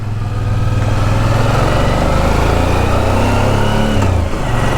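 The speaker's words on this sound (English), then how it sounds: "There's a red Porsche coming," A car engine hums loudly and steadily on a Swiss mountain pass, a red Porsche approaching at slow speed, with a low droning tone that shifts pitch near the end.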